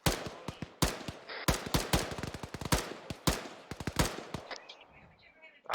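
Rapid bursts of automatic gunfire in a military game squad training session, loud sharp shots in irregular volleys laying suppressing fire on white smoke, with a brief radio-style voice underneath.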